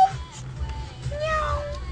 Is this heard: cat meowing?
yes